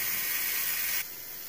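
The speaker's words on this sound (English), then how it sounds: "the steam scares me anyway." Steam hissing from a pot while batch cooking potatoes, carrots, cabbage, turnip and Swiss chard, a steady close hiss that drops abruptly to a quieter level partway through, with no talk.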